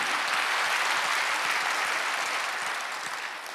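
Dense, continuous applause from a Korean church congregation at a Wednesday worship service, a bright even wash of many hands clapping that eases off slightly at the end.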